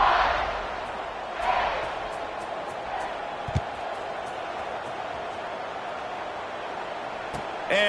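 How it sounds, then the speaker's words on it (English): A stadium crowd at a football game keeps up a constant broad murmur, with a few swells of cheering and an occasional thud, while a commentator talks over it. "this crowd is buzzing after that last score"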